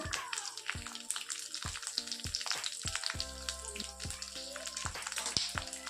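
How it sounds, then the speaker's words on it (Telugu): Urad dal, sesame seeds and cumin fry in hot oil in a kadai, a steady dense sizzle with crackling and occasional stirring clinks running throughout, close and continuous. "మినపప్పు నువ్వులు జీలకర్ర ఆయిల్లో వేసుకొని ఫ్రై చేసి"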